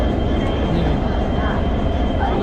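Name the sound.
train at Dimapur railway station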